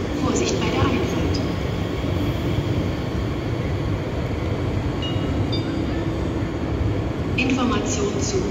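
A class BR 442 regional train on the RE7 service departs the station with a steady rolling rumble and faint high squeals, while station sounds and voices carry over it.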